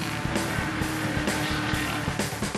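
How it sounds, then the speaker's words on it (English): Dick Johnson's Palmer Tube Mills Motorcraft Ford Mustang V8 racing on a track, a loud, dense engine roar with rapid rhythmic pulses and hiss throughout, sounding close and continuous. "the Palmer Tube Mills Motorcraft Mustang V8, Dick Johnson at the wheel"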